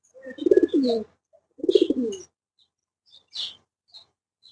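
Pigeons coo softly in two low rolling bursts, followed by faint scattered pecking and rustling sounds nearby.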